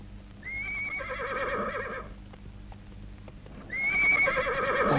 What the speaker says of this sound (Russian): Без всадника конь мчит во вражеский стан.